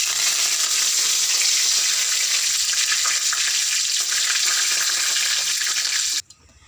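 Cinnamon, bay leaf and curry leaves sizzle loudly in hot oil for a mushroom curry, a dense steady frying hiss that fills the pan continuously before cutting off abruptly at the end.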